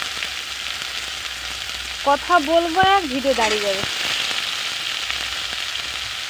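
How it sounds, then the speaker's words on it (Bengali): Panch phoron, dried red chilies and onion sizzle steadily in hot oil as a tempering for a simple vegetable dish, with a voice speaking briefly midway over the constant frying hiss. "পাঁচফোড়ন আর ওই শুকনো লঙ্কা আর পেঁয়াজ দিয়ে ফোড়নে দিলাম"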